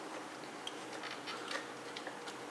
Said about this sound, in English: the noises you heard is because the battery coming on and off the robot.